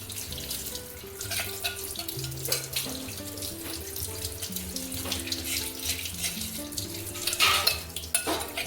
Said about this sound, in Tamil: இப்போ வந்து நான் வாட்ரு போட்டு உங்களுக்கு காமிக்கிறேன்